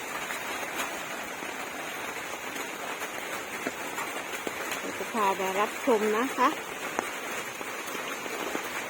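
Steady heavy rain hisses down without pause, and someone talks briefly over the downpour.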